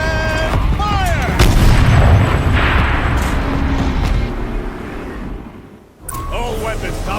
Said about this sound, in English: And fire!